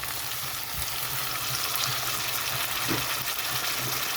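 Tomatoes going into a pan of frying onions and potatoes, a dense steady sizzle with occasional low stirring knocks, no talking.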